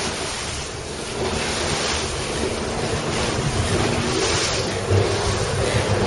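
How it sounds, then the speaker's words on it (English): Waves and strong wind around a 420 sailing dinghy, a constant roar of buffeting microphone wind over rushing surf and hull splash. "Bunch of waves here."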